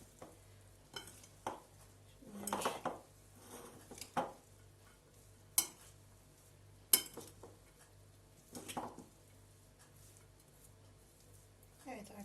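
Green lentil salad being stirred in a small bowl, with scattered scraping and clinking strokes of a utensil against the dish, moderately close, while a voice talks over it.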